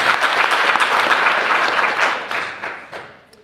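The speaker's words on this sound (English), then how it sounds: "Now, yes, a round of applause," A crowd at a political assembly applauds in a loud, dense round of clapping that gradually thins and fades out by the end.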